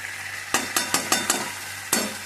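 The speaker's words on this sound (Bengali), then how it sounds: "তো এই মুহূর্তে আমি দেব আমার মেথি পাতাটা, ভাজা মেথি পাতাটা অ্যাড করে।" Chicken cooking with fried fenugreek leaves is stirred in a hot pan: six quick, sharp scraping strokes cut through a low, constant sizzle, the first five coming in rapid rhythm and the last after a short pause.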